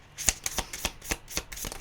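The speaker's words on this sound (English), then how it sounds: "Right, I'll just do a different shuffle with this deck." A tarot deck is shuffled by hand in quick, crisp bursts, about nine close, papery flicks in an uneven rhythm, quiet and alone.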